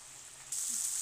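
Spices frying in oil in a pan for Bengali aloo dum, a soft steady sizzle that jumps louder halfway through and then keeps hissing evenly, with no talk.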